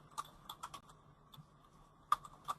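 Computer keyboard typing while Excel VBA code is entered, with scattered individual keystrokes and a few quick clusters, quiet and close, no talking.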